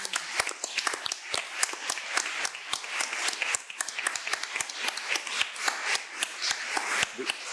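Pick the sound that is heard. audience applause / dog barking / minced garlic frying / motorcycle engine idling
audience applause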